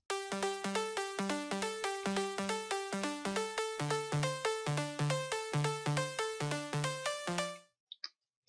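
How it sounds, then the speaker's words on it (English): A bright synth pluck from an uplifting trance project in FL Studio repeats in a fast, even rhythm of short, sharp notes shifting pitch partway through, then stops abruptly with a couple of faint clicks after. "The first pluck sounds like this."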